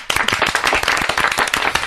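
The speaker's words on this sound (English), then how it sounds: "Clap for bachelor party." A group of people clapping together at a bachelor-party themed moment, dense and steady applause lasting a couple of seconds, close and loud with no talk over it.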